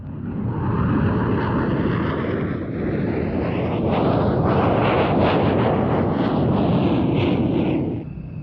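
A German Air Force Tornado GR1 (IDS) jet roars loud and steady at an air show, a broad, rushing blast that swells slightly midway and eases off at the end.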